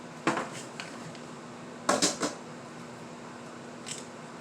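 Cutting open a plastic package of pork ribs: a few short, crisp snips and crinkles, one near the start and a tight cluster in the middle, with a faint rustle near the end over steady low room hum.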